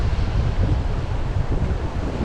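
Strong wind buffets the microphone at a night-time crabbing spot on the shore at Captree State Park, a steady loud rumbling roar with gusty fluctuations and no talk.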